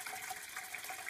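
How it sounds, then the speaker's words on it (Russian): Brown-tinged tap water pours steadily from a faucet into a kettle, a continuous close rushing splash with no voices. "вынуждены наливать в свои чайники жители Парковского микрорайона."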